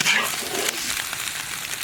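Wild greens stir-fried in a hot wok, a loud close sizzle with scraping stirring throughout, no talk.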